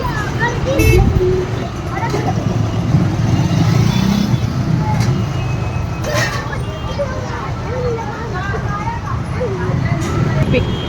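Congested road traffic near Mankoli bridge in Dombivli, a steady loud rumble of idling and crawling cars, buses and motorcycles close by, with scattered voices and children audible throughout.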